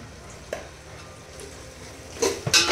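Whole spices and cumin sautéed in a pan on a home stove, with a low frying hiss, a few soft stirs and utensil scrapes, and brighter sizzling bursts near the end.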